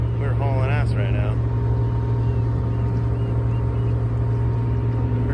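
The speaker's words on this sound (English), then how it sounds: "Testing up the engine. We're hauling ass right now." A sailboat's motor engine runs steadily in the Berkeley Marina, a loud constant low drone with a strong hum throughout, while a person speaks briefly near the start.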